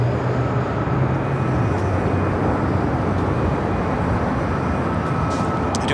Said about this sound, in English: That is that Southwest flight heading to Chicago Midway.